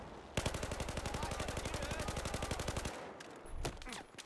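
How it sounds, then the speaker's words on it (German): Rapid automatic gunfire from a Battlefield 4 multiplayer match on the Siege of Shanghai map rattles out in a long, evenly spaced burst of loud, close shots, then cuts off with a few scattered sounds. "hier ballert mich schon wieder irgendwas total dämlich ab"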